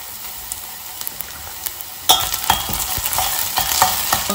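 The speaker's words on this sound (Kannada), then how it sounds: "ನೋಡಿ, ಈರುಳ್ಳಿ ಟ್ರಾನ್ಸ್ಲೂಸೆಂಟ್ ಕಲರ್ ಆಗ್ತಾ ಇದೆ. ಆಗಬೇಕಂತ ಇನ್ನೊಂಚೂರು ಆಗಬೇಕು, ಅದಂಗೆ ಫ್ರೈ ಆಗಲಿ." Onions, ginger-garlic paste and slit green chillies for aloo methi frying in a pan: a quiet sizzle with light taps, then a louder burst of crackling and stirring scrapes.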